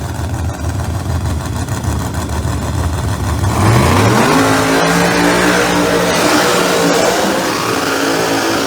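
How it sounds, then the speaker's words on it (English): A Pro Mod Chevrolet Camaro drag race car with a ProCharger supercharger roars loudly at a drag strip, its engine note climbing sharply as it revs hard under constant crowd and track noise. "the Extreme Racing Engine CL1 Chevrolet Camaro Pro Charger"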